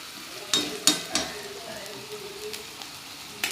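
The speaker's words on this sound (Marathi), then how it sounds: "हे पण सगळेचे सगळे आता तळून घेते मी मस्त" Potato snacks deep frying in hot oil give a soft, steady sizzle, broken by a few sharp clinks of a utensil against the pan, close and fairly quiet.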